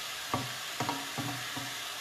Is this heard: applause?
no